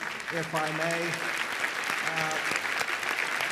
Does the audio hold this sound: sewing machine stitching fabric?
no